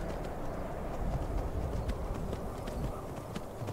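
Horse hooves clip-clop steadily in a video game as a rider moves through a town, a continuous rhythmic patter under a dense wash of game ambience, with no talking.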